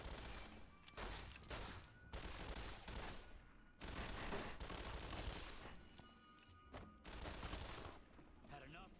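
Gunfire in the video game Fallout: New Vegas, a quiet run of rapid shots in several bursts with short gaps, mixed with game noise and a voice talking over it.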